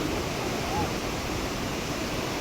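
Flooded Kayadhu river rushing near a railway bridge: a dense, continuous roar of turbulent water, steady and fairly loud from start to end, with no distinct voices.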